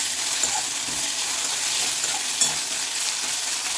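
Hot oil crackles and sizzles steadily in a pan as spices temper, a continuous bright hiss with small pops.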